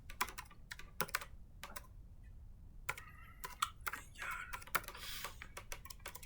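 Keys on a computer keyboard are struck in quick, uneven bursts with short pauses between them, each tap crisp and close, with no voices over the clatter.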